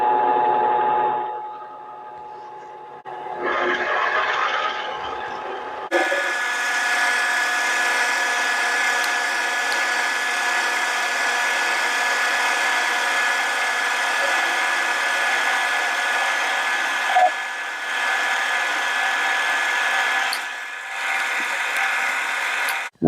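A mini lathe drills a center into a custom adapter: a steady, loud motor whine with a broadband cutting hiss that holds evenly for a long stretch, shifting slightly in tone partway through.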